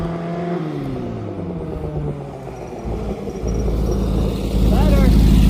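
A small four-cylinder Camaro engine revving loudly and close by, the engine note climbing steadily and growing louder toward the end.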